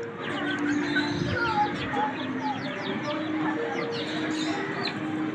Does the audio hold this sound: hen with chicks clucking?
yes